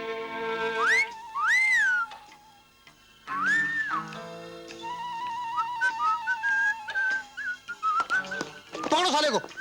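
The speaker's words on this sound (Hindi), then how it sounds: "सीटी क्यों मार रहा था?" A man whistles in a Hindi action film scene, producing sliding, warbling notes and short pitch glides, close and fairly loud, mixed with voices and other brief sounds.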